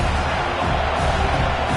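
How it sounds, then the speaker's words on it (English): A home crowd roars steadily at a Division 2 college football playoff game on 3rd down, a sustained loud wash of cheering with no gaps. "Here comes this home crowd as the defense tries to get off the field on 3rd down"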